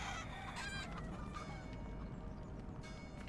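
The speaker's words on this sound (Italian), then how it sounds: "galline! Signora gallina?" Chickens cluck in the video game Tom The Postgirl, with a dense farmyard chorus of repeated clucks and squawks over a steady, busy background.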